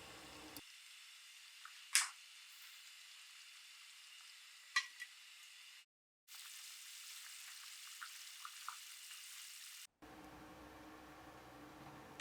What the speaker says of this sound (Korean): 감자와 레몬글라스를 넣고 감자가 익을 때까지 7분 정도 더 끓여요